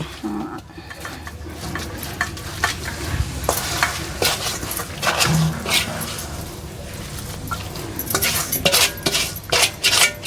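Telangana ginger pickle with raw garlic being mixed and pressed down in a jar, giving a steady run of scraping, clinking utensil sounds at close range, with no talk.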